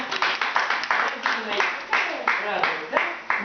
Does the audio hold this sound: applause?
yes